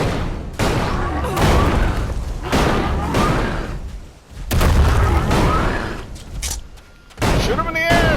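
A shotgun fired repeatedly in the ELEX role-playing game: heavy booming blasts roughly every second or two, loud and close, with combat noise and voices in between.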